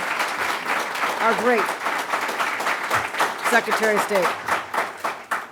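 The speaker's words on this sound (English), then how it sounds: "So let's give another round of applause to Harlem Zone, East Harlem Zone," Round of applause for East Harlem Zone at a state government announcement in East Harlem, New York: steady clapping from an audience under a man's amplified speech, swelling and fading as he talks.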